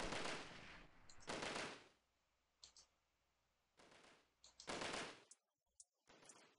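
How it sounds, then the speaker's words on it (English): Bursts of automatic gunfire in the shooter game Delta Force, a few rapid volleys separated by quiet gaps, with scattered single clicks and shots, sounding somewhat distant with no talk. "I'm hearing shots. Sounds like they're coming from the right."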